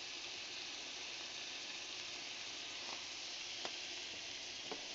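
Meat sizzles steadily in a pan over reduced onions, a constant broadband hiss with no talk, broken by a few faint clicks of a utensil.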